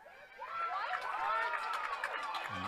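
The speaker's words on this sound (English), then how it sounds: "Lynchburg kind of a mock applause because they're happy with the call" Lynchburg fans at a women's lacrosse game against Shenandoah give a sarcastic round of mock applause and cheers, a moderately loud crowd sound that swells and holds steady, with voices mixed in.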